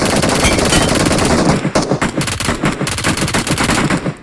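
Rapid automatic gunfire rattles in the PUBG battle royale video game, a sustained loud burst followed by choppier repeated volleys of shots.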